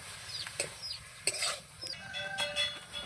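Boiled masoor dal stirred into a pan with a spoon, a few sharp scrapes and clinks spaced out over a soft sizzle, close and fairly quiet.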